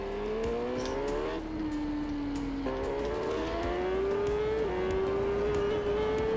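Superbike engine in the TT Isle of Man 3 racing game, a steady high-revving drone that climbs, drops at gear changes and climbs again with a slight warble, loud and continuous throughout.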